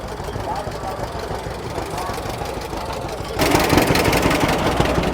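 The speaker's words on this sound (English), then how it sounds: "And there's a beautiful hum of the engine." A 1944 John Deere tractor engine runs at a haymaking festival, giving a steady, close, rumbling hum that grows louder partway through, with crowd sound around it.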